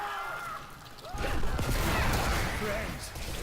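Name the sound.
Corpse Explosion spell from the video game Diablo 3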